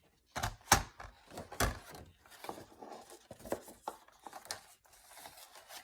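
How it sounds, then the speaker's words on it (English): A paper trimmer slices journal paper in a few sharp close clunks and swishes, followed by softer sliding and tapping handling sounds. "let's trim that off."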